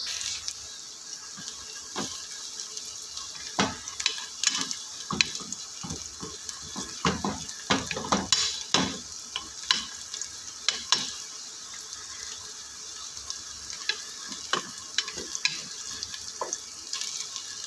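Ginger and garlic frying in oil in a pan for chicken biryani, a steady soft sizzle with scattered spatula clinks and scrapes over a faint background hiss.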